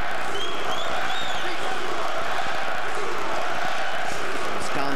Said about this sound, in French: Et la foule, vous l'entendez déjà.